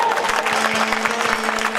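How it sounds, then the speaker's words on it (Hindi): An audience at a Ganesh Mahotsav celebration claps in a dense, steady wave of applause, a fairly loud crowd sound that continues evenly, with a faint tonal hum beneath it. "भारत देश के लिए जोरदार तालियां हो जाए।"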